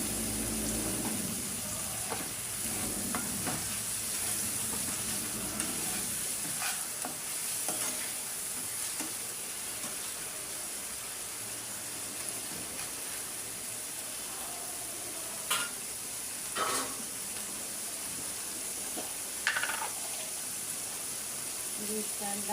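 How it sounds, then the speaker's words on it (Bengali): Ginger and garlic stir-frying in hot oil, a steady sizzle with scraping stir strokes and a few sharp clinks of a utensil against the pan, heard close throughout. "আদা রসুন তেলের মধ্যে ভালো করে একটু কষাই নেব।"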